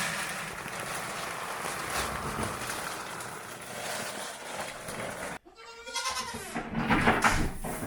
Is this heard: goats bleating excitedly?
yes